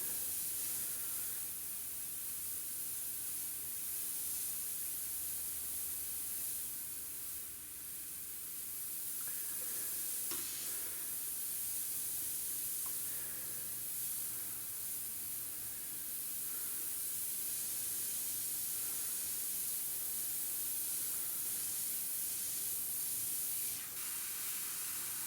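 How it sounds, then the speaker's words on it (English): Close, steady airbrush hiss as paint is sprayed through a template to build dot textures in a skull and smoke-flame design on a Harley front fender, continuous with slight pulses and no talk. "spraying through the template to get some of those dot textures"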